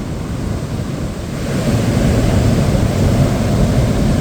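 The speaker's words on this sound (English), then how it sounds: "Get some real waves here coming in." Ocean waves rush steadily onto a wet beach, a loud continuous roar of surf that swells stronger partway through, with wind buffeting the microphone.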